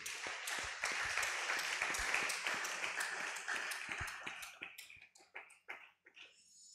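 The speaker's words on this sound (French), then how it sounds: "Acclame pour le Seigneur Jésus." A church congregation at a French-language worship service applauds in a dense, sustained burst that thins into scattered claps and fades out.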